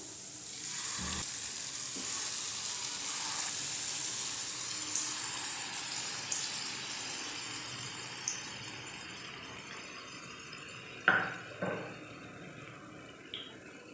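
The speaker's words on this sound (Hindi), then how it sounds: "मैं इस बॉल्स को शैलो फ्राई कर रही हूँ" Batter-dipped balls for a Navratri breakfast shallow frying in medium-hot oil: a continuous bright sizzle, close and steady, with occasional soft taps and clinks as pieces are added or turned, no speech.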